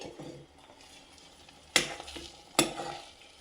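Goat brain fries in a pan as it is stirred, a steady low sizzle broken by two sharp scraping clatters of a spoon against the pan.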